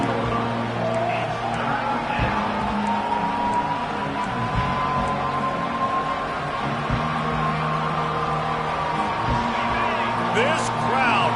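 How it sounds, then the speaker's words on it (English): Football stadium crowd at a Ducks game roaring full-throated, a dense continuous wall of cheering that holds steady throughout, with faint whistles and a rising tone on top; loud and enveloping. "This crowd, full throat, spreading the eardrums"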